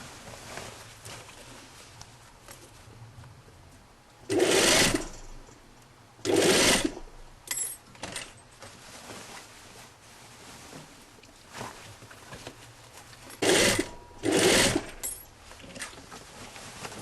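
Topstitching on a jacket with a sewing machine comes in repeated short, loud bursts, several stitching runs in pairs with quiet gaps and light fabric handling between them.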